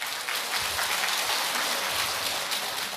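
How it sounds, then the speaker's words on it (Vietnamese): A church congregation gives a round of applause during a Catholic priest's talk, a dense steady patter of many hands clapping throughout, close and full. "Một tràng pháo tay thưa anh chị em"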